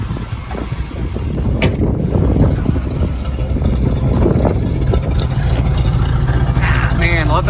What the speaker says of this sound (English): That's the old muscle car sound.